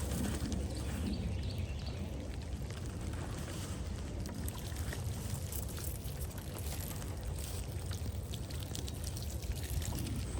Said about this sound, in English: now we're adding the swamp water